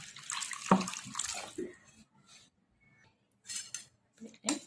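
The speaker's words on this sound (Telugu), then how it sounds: "ఇలా మిక్స్ చేసిన దాంట్లోకి పెరుగులోకి వాటర్ పోసుకోవాలి." Water splashes and pours in short bursts into a bowl of yogurt mixture for a buttermilk rasam, with brief pauses and faint clinks in between.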